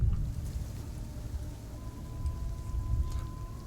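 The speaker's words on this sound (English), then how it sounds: "you hear the thunder and the rain start pouring outside" Rain pouring outdoors under a distant rumble of thunder, a steady low wash with soft drops, faint and continuous for a few seconds with no voices.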